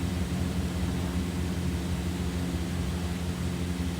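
Twin engines of a DHC-6 Twin Otter hum steadily at low throttle on approach, a continuous broadband drone with a low rumble heard from inside the cabin, no voices.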